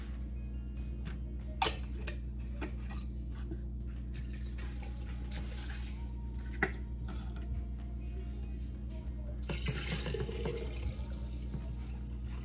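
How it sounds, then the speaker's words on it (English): Hot tap water runs while canning jars are rinsed out, a quiet splashing over a low background hum with a few small clinks and a fuller gush near the end. "I'm gonna rinse out every jar to get every last bit of flavor out of the jars"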